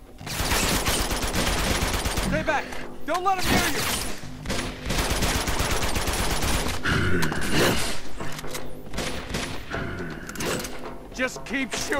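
Sustained bursts of gunfire and clattering shots from the Uncharted 2 Shambala level fill the mix densely, with creaking mechanical sounds and brief gaps between volleys and a voice speaking underneath.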